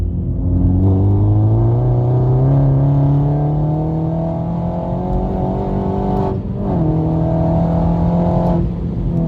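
A Mini Cooper S F56 with a stage 2 tuned 2-litre turbo engine drones steadily and loud, its pitch climbing gradually, with a brief dip and recovery near the end, no voices.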